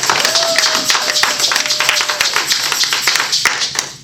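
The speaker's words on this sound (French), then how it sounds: "On acclame très fort la parole de Dieu." Church congregation clapping and applauding loudly and steadily for about four seconds, a dense crowd of hands with a faint tone briefly running underneath.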